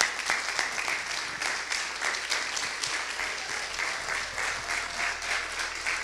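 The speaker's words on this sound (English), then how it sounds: "Will you all give them one big round of applause, all the graduates?" Graduates at a church graduation Sunday receive sustained applause from a crowd, a dense continuous clapping at moderate level that holds steady for several seconds with faint voices beneath.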